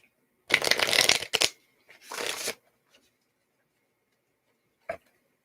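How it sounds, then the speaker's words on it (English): A deck of tarot cards is riffle-shuffled up close in two quick bursts, followed by a single light tap, with no talking. "Let's shuffle this cards and let's get yours."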